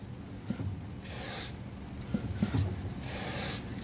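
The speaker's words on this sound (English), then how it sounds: "Let's spray the whole thing if you want, but we don't need to." Two long hissing bursts of aerosol lubricant spray onto a Murray 24-inch 8hp snowblower, each over a second, with quiet handling noise and small clicks between them, close by.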